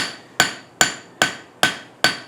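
A blacksmith's forging hammer with a different peen striking hot steel while shaping a candle holder, five sharp, evenly spaced metallic blows, each ringing briefly before fading, close and loud with no speech.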